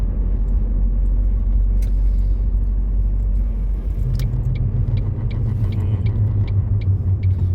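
A Mk1 Ford Focus drives along on its first run of 2026, its engine rumbling low and steady from inside the cabin, with a light rhythmic clicking and rattling joining in partway through.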